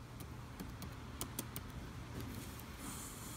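Typing on a computer keyboard makes a sparse series of soft, close key clicks, a few taps at a time with short pauses, over a quiet room hum.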